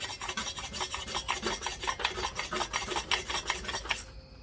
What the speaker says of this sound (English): I'm going to take the sharpening stone, I'm going to go over it